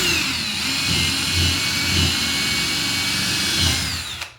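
A power drill boring a pilot hole into a wooden wall stud, a continuous loud high-pitched whine that holds steady for several seconds before spinning down abruptly at the end, heard up close with no speech.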